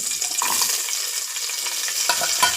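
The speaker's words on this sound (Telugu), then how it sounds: "ఆవాలు జీలకర్ర కరివేపాకు వేసుకున్నాం కదా వీటిలోకి పచ్చిమిర్చి వేస్తున్నాం" Green chillies drop into a sizzling ghee tempering of mustard seeds, cumin and curry leaves for ghee pongal, giving a close, steady hiss with a few clatters of stirring.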